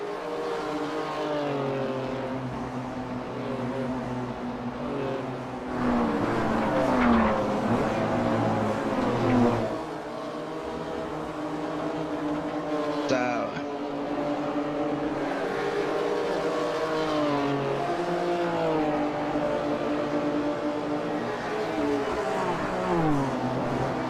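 Race cars in a tight pack during a Clubsport Rumble circuit race, engines droning loud and continuous with shifting pitch sweeps as cars pass and change gears, several overlapping at close range.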